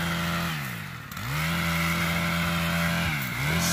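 A motorised pole saw hacks back bushes, giving a loud steady engine drone that dips briefly twice as the revs drop and recover. No talking can be heard.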